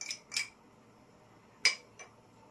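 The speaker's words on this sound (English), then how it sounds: "I put the Nescafe in the cup." Nescafe instant coffee spooned into a cup, two pairs of light metallic clinks of a spoon against the cup, faint and close, separated by quiet.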